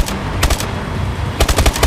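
Automatic gunfire in the Call of Duty: Advanced Warfare mission Traffic comes in two sharp rapid bursts, close and loud, separated by a short lull of softer rumbling.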